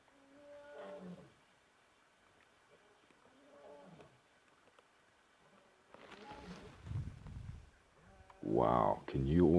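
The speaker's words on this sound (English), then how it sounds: "Oh, lion roaring." A lion roaring close by on a live safari, heard as deep rumbling calls that build to a loud bout near the end, with people talking quietly in between.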